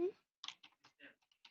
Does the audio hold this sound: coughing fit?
no